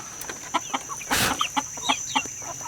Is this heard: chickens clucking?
yes